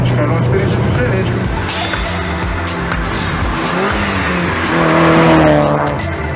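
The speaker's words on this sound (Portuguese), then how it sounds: "O barulho é de 4 cilindros realmente, mas é muito legal, uma coisa diferente" A BMW E30 fitted with a four-cylinder engine, half of a Porsche 928 V8, drives along, its engine droning and rising in pitch as it accelerates, with a voice audible over the engine.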